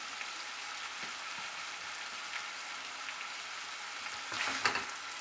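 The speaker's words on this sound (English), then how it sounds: "Give it a stir." Garlic paste and chopped green chilies sizzle in a mustard mutton curry, a steady close frying hiss with light scrapes, then a louder burst of stirring near the end, with no voices.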